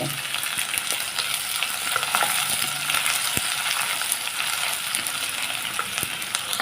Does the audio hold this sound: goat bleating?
no